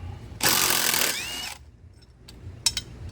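A lawnmower blade is taken off with hand tools, a loud burst of rapid ratcheting lasting about a second, then quiet with a couple of short metallic clicks.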